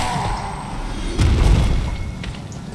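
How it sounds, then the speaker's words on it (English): A massive holy attack spell in a video game lands with a single deep booming burst about midway, swelling over steady in-game ambience and fading out, with no talking. "will do a massive holy attack like that, which will actually heal me"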